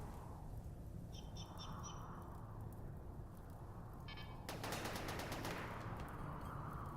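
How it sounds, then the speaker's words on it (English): Enemies return fire in a video game: a short rapid rattle of shots, then a louder, dense burst of automatic gunfire that keeps going over steady background noise. "Wait, they're shooting back."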